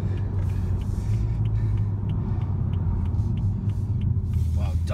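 Engine of a BMW M235i xDrive heard from inside the cabin while driving, a steady deep rumble with faint, regular ticking above it.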